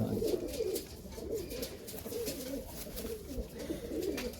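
Flying pigeons kept by a Punjabi pigeon fancier coo in a low, continuous rolling burble, several birds layered together at moderate distance.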